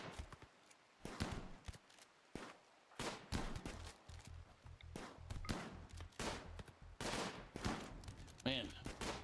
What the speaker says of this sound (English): Oof, they're firing back.